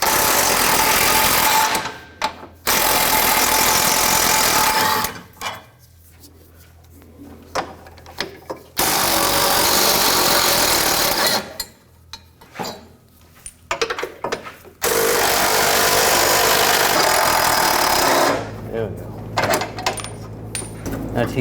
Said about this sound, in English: Now we're going to start removing these bolts. There's 3 of them for the straps. Use a 15mm socket.